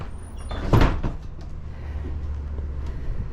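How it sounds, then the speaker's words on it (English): A heavy old door in a historic building swings and thuds shut with a single dull knock, followed by a low rumbling room tone. "The door is heavy."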